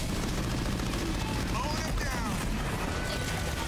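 Heavy gunfire fills a battle in Halo Wars 2: dense, rapid bursts of machine-gun fire and explosions roll on without a break, with game voice lines mixed in.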